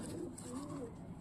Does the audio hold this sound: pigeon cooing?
yes